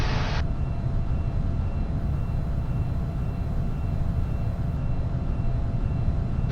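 A Glasair Sportsman light aircraft cruises in flight, its engine and propeller giving a loud, steady drone and broadband roar that holds constant throughout the cabin.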